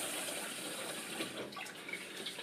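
Tap water runs steadily into a bowl while rice is rinsed of starch, a soft continuous splash and trickle close by with no talking.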